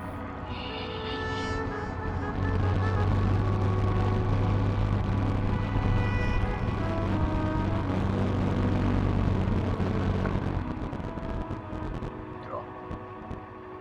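Motorcycle ridden slowly on a touring trip between Parapat and Sipirok, its engine a steady low drone with wind rush lasting most of the stretch, a brief voice at the start and fading toward the end.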